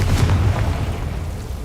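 Confringo blasting spell going off in Hogwarts Legacy, a loud low boom bursting at the start and rumbling on as it fades over a second and a half, with no voices.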